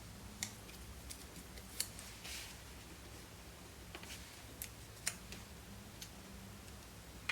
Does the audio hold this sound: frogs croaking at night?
no